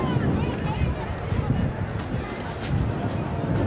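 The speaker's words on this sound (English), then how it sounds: "there's a little bit of wind about. It's gusting. You can hear it in the effects microphone." Gusting wind buffets an outdoor microphone at a rugby union match between Argentina and Italy, a steady low rumble that swells and dips with the gusts under a distant crowd murmur.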